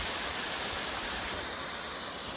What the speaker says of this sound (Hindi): ये आबशार है, ये देखें, ये आबशार है।